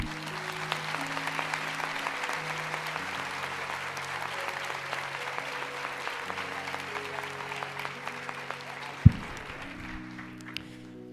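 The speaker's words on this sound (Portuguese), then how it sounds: "Quero dar uma salva de palmas para eles." Church congregation applause at an Encontro com Deus gathering, a dense, even wash of many hands clapping for over ten seconds, with a single sharp knock near the end.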